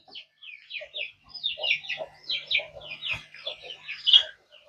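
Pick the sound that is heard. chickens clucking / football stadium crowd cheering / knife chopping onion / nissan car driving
chickens clucking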